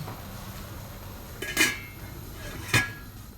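A lid goes down on a cooking pot of leeks with two short, sharp metallic clanks about a second apart, against quiet kitchen background.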